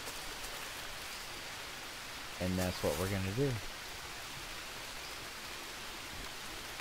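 Steady rain in the jungle survival game Green Hell, a faint, even hiss of falling drops throughout, with someone speaking briefly near the middle.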